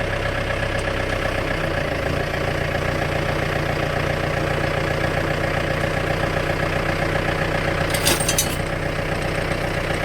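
A post hole digger engine idles at a steady, even throb, loud and close with a faint rhythmic knock, and a brief rattle near the end.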